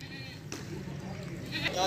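Goat bleating on a farm in Pakistan, a short call rising near the end of the clip over a steady background murmur of people talking.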